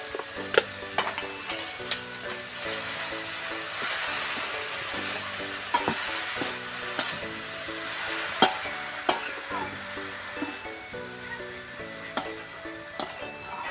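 Leafy greens sizzle in a kadai with salt and turmeric, producing a constant hiss of frying. A spatula knocks and scrapes against the pan in a stop-start rhythm, and there are sharper metallic clinks near the middle. Close and fairly loud.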